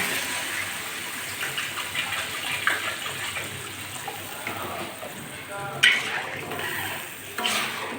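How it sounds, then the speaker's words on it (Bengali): Water is poured into a hot pan of oil, salt and turmeric for a tilapia and potato fish curry, giving a continuous sizzling rush with a few sharp spatters. "এবার আমি জলটা দিয়ে দেব"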